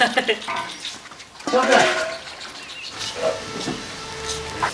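A water tap runs with a steady hissing rush, with a few faint clatters and knocks over the flow.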